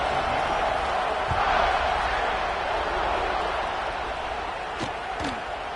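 College football stadium crowd at Georgia versus Alabama just before kickoff, a broad, steady roar that swells slightly early on, then eases, with a couple of sharp knocks near the end.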